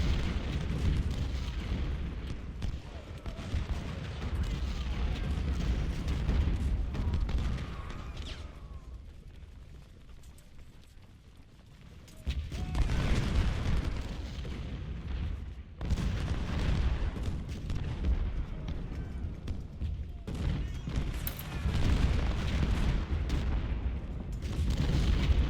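Howitzer artillery barrages in the Civil War strategy game Ultimate General: Civil War, a dense continuous rumble of booming cannon fire that briefly thins out midway before resuming at full loudness.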